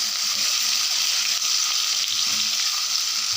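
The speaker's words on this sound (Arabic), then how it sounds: "معلقة ثوم مفروم، واضيف بقى البطاطس نقلبها كده" Potatoes with a spoonful of minced garlic sizzle and fry steadily in a pan while being stirred, a loud continuous hiss with no talking.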